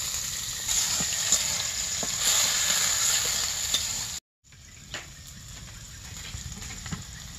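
Dried chillies and chopped onions frying in a pan, a steady close sizzle with a short break partway through, then continuing more softly with occasional stirring clicks.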